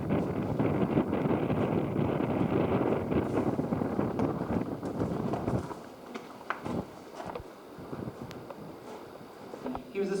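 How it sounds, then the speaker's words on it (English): Strong wind in Ireland buffets the microphone with a heavy, roaring rumble, easing after a few seconds into lighter gusts and scattered knocks. "It's windy out here"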